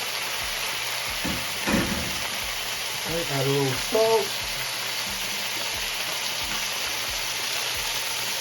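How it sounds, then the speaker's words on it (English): Salmon sizzles steadily in a hot pan throughout, a constant crackling hiss beneath a brief spoken line and a couple of short clinks. "you hear that sizzle? That sizzles."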